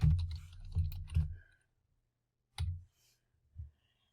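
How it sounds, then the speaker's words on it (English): Clicks from a computer keyboard as text is typed while setting up a Silhouette Cameo print-and-cut design, with a quick burst of keystrokes followed by two isolated taps after a pause. "So I'm going to type in birthday girl magic."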